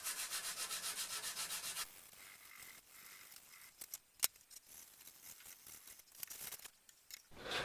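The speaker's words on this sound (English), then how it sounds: "we'll start with the non-abrasive Zep Commercial Multitask Wipes" Zep Commercial Multitask Wipes rubbed over smooth acrylic to clear overspray: a fast rhythmic scrubbing for about two seconds, then quieter scattered wiping strokes with a few sharp scuffs, close up and alone.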